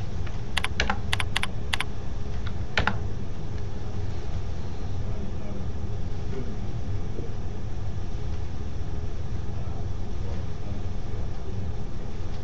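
A burst of computer keyboard typing, a quick cluster of sharp key clicks followed by one more press, over a steady low room hum with nothing else happening afterward.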